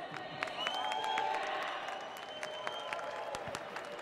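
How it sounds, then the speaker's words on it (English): A crowd at St Katharine Docks in London applauds a Clipper Race crew finishing 7th, with steady clapping and a few sharp close claps over a murmur of background voices. "please give a huge round of applause for 7th place"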